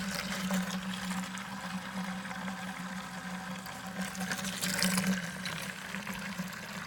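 Homebrewed beer pours steadily into plastic fermenting buckets, about five gallons each, a continuous moderate rush of liquid with no talk.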